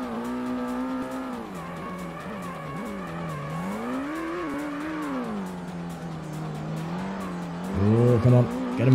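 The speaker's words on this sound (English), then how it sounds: "If the car will stop wheel spinning and we can get a move on." A car's wheels spin in the Ford Racing video game during a Ford Mustang season, a sustained revving engine whine that rises and falls, ending in a brief louder burst of tire noise.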